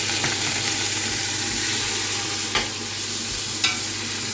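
One teaspoon of garlic paste fries in oil with browned onions, giving a steady close sizzle with a couple of sharp scraping stirs.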